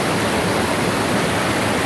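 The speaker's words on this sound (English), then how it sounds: "so we're here at this waterfall." A waterfall along a river in Tanjay, Negros Oriental, Philippines, pours as a steady, dense broadband roar, close and constant with no other sounds.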